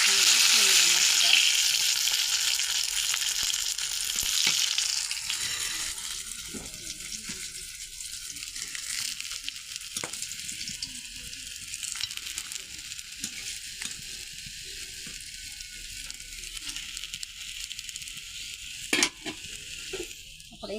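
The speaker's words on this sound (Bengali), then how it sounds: "মাছটা আমার একটু ভালোভাবে ভেজে নিয়েছি" Fish fries in hot oil, a loud, dense sizzle that starts strong and softens to a steady crackle, with occasional scrapes and clinks of a utensil against the pan.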